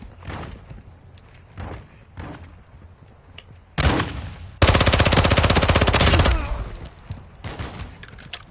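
Loud turret machine gun fire in Call of Duty MW2 DMZ: a sharp burst, then a sustained rapid stream of shots for about two seconds that fades out, preceded by quieter game sounds.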